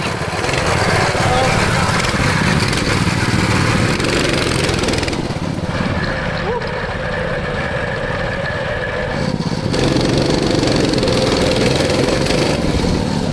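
A drifting mini bike with a 636cc engine runs loud and steady nearby, a continuous buzzing roar that dips slightly in the middle before swelling back, with people talking faintly underneath.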